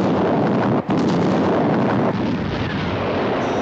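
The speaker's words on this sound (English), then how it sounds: "Our visual contact with explosion." A missile detonation during a UFO intercept produces a loud, sustained roaring blast. It is close and dense throughout, with a brief dropout early on and no voices.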